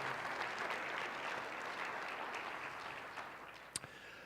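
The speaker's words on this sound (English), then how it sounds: "So if I could have a round of applause for our sponsors." Conference audience at Ascent 2018 gives a steady round of applause for the event's sponsors, fairly distant and even, tapering slightly near the end.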